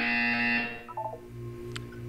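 A buzzer sounds in a Portal 2 test chamber: a harsh, steady electronic tone holds briefly and then cuts off, leaving a few faint beeps in a quiet space.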